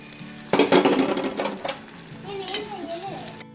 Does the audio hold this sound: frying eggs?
yes